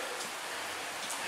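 Rain falling on and around a car during its first drive of the year, a brief soft steady hiss of drops, faint and close, with no talk.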